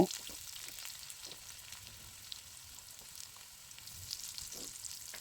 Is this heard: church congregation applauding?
no